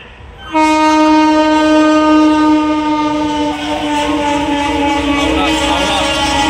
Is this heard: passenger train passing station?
yes